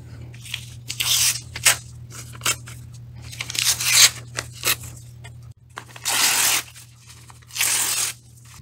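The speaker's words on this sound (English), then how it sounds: "The next step is to tear your newspaper into small strips." Newspaper being torn into small strips by hand, a series of short and longer ripping bursts, close and fairly loud, over a steady low hum with no talking.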